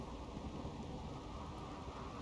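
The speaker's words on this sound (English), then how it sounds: "That is a crazy thunderstorm." A dense thunderstorm with heavy rain and rumbling thunder from the game RimWorld roars steadily and loudly throughout, with no talk over it.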